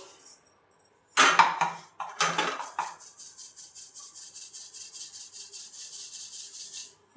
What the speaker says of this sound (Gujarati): આપણે ચાળવાનો વાલો લીધો છે એમાં ચાળી લેશું.